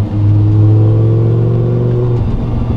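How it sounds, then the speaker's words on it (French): Audi R8 V10 engine under load at around 3000 rpm, a loud, steady, deep growl held close for nearly three seconds before dropping slightly, with no talk over it. "avec de la charge sur l'accélérateur, le V10 il gronde"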